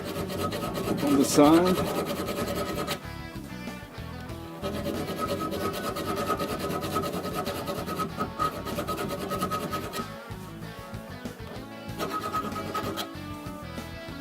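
Hand filing scrapes weld spatter off a steel quick clamp in a home workshop, a close, steady rasping that continues for the whole stretch with brief pauses, under one short spoken remark.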